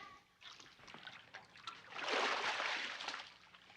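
Rainwater poured from a container splashes and sloshes steadily, building to a fuller, louder pour midway through and continuing to the end, with no talking over it.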